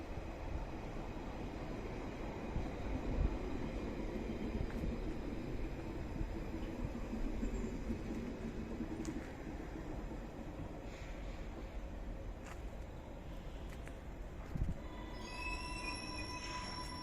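A GWR Class 230 three-coach battery train pulls into a station platform, giving a steady broadband rumble of wheels on rail with a faint squeal near the end, and no one speaking.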